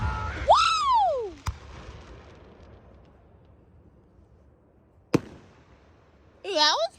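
Fireworks at a fairgrounds show give two sharp, separate bangs with quiet stretches between them. People whoop and cheer in rising and falling voices.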